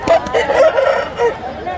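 A rooster crows amid the bustle of a country chicken market, its call rising over busy crowd chatter and bargaining voices, close and fairly loud for a moment.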